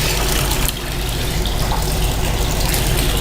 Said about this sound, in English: The spiral wheel's been going the whole time